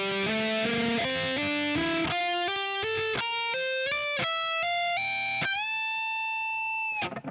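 Distorted electric guitar riff with string bends, a run of loud picked notes ending on a long sustained whole step bend that rings out and fades, no voices.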